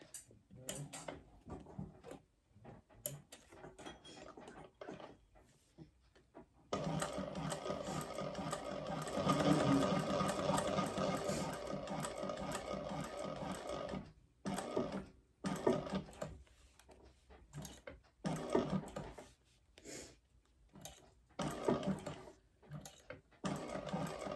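A sewing machine stitches around the outside of a bag in several runs of steady whirring, stopping and restarting with short pauses between bursts, close and fairly quiet.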